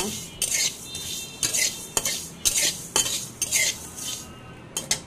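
Black cumin and garlic are stirred in a very hot wok over low heat, with repeated rhythmic scrapes and clinks of a metal spatula over a faint background sizzle.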